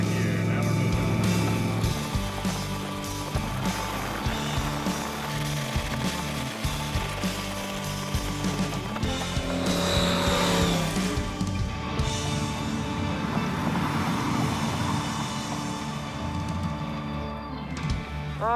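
An '86 Thunderbird with a 302 V8 drives in third gear, its engine droning loudly and steadily with rising and falling revs, close up and mostly alone.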